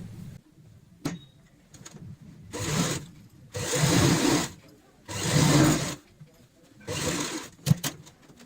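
A sewing machine stitches a cloth purse made from old fabric, whirring in four or five steady bursts between quiet gaps, with a few small clicks and handling knocks, close and fairly loud, no voices.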